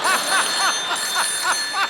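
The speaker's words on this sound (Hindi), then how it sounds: "संतोष, अगर माँ का दूध पिया तो फोन उठा।" Telephone rings in steady repeated bursts, about seven short trilling pulses over two seconds, fairly loud and close, with faint background noise and no talking.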